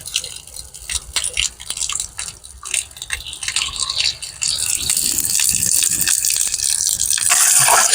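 Water from a cement tank pours into a pot, starting with scattered drips and splashes and building into a steady, louder gush toward the end.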